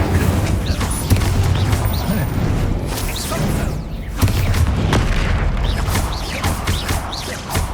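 Bombarda and Confringo spell explosions in the Hogwarts Legacy video game: a dense barrage of loud booms, blasts and crashes follows in quick succession during a fight, with voices shouting among them.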